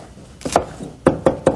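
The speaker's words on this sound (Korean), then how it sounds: "파하고 마늘을 다지는 거예요." Knife chopping green onion and garlic on a cutting board while preparing ground pork for a braised tofu and meat dish, a few sharp knocks spaced apart, close and alone.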